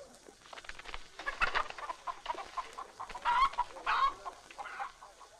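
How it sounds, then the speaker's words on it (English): Chickens cluck in a loose, busy chorus, several close birds making rapid overlapping clucks and squawks in irregular bursts, with no talking over them. "But it is not possible to go back with the little birds. They make too much noise."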